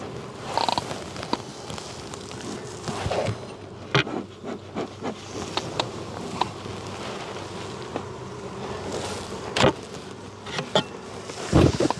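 Bees buzzing close around a hive, a continuous droning hum broken by scattered knocks and clicks from handling the hive.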